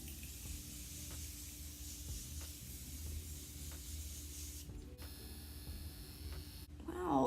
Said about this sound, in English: I'm gonna spray my face with the Morphe Continuous Setting Mist